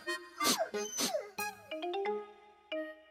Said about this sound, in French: Un adorable petit chien brun. Le petit chien remuait joyeusement la queue.